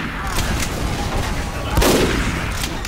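A sniper rifle in Team Fortress 2 fires amid the match: one sharp, loud crack stands out over a dense, noisy background of game action.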